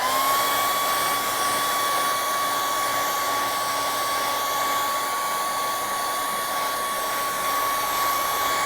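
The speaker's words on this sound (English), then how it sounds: "And then we'll take the blower" An electric blower runs during art work with a steady, loud whoosh and a constant motor whine that holds unchanged from start to finish, with no talking.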